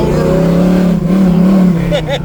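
A Chevrolet Camaro engine with freshly worked carburetor rumbles loudly and steadily at close range, the revs rising and falling while someone talks over it.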